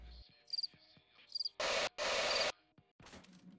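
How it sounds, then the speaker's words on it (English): Crickets chirp in a video game scene in short, bright bursts of trilling, alternating with louder broadband hiss segments, heard alone without talk. "I just hear crickets."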